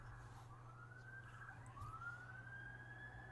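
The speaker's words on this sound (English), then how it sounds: "Man, there are so many more sirens lately, it's crazy." A distant emergency siren wails faintly, its pitch slowly rising and falling over a steady low hum.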